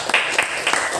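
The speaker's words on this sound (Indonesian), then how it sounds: "tepuk tangan dulu kelompok 2" Brief burst of classroom applause from students clapping for a group during a lesson, a dense patter of hand claps lasting about a second with a faint voice mixed in.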